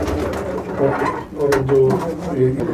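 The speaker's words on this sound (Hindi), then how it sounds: "ये है इनकी जो नस्ल मशहूर हुई है, सफ़ेद आँख के पामोज कबूतर" Soft, throaty coos of white-eyed pigeons repeating in short rolling phrases, close by, with faint background murmur.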